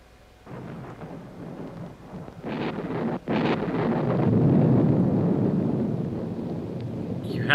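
A thunderstorm with rolling thunder and steady rain in a Doctor Who episode set among the Aztecs, a broad rumbling roar that swells in bursts and stays loud and continuous, with a brief dip partway through.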